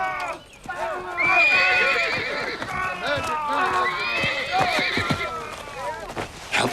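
A horse whinnies loudly and repeatedly near at hand while hooves clip-clop beneath, in a medieval Robin Hood setting, the neighs rising and falling over several seconds.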